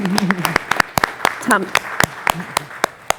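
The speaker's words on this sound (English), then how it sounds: "please stand so we can give all of you a round of applause" A short burst of scattered clapping from a small group, with a few cheerful voices calling out over it.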